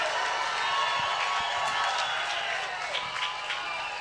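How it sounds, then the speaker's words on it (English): A large street rally crowd for Scottish independence in Edinburgh claps and cheers, a broad roar of clapping with scattered shouts and whistles rising above it, heard from within the throng. "Give yourselves a round of applause"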